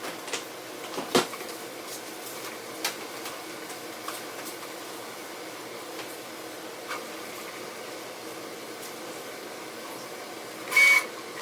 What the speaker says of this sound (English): As you can see, 3D printer is pretty cool.